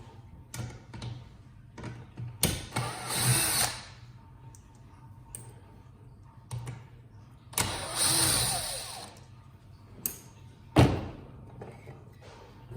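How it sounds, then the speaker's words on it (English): A powered screwdriver removes screws from a Kirby Ultimate G vacuum cleaner during a teardown, with two longer whirring bursts and several short spins amid quiet clicks and handling noise. "I believe this top section will fall right off once I remove these 2 screws."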